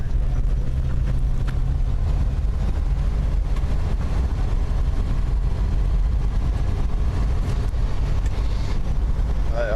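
An old Plymouth Valiant struggles along in manual low gear, its engine droning low and strained under heavy road and wind rumble, loud and continuous for the whole stretch.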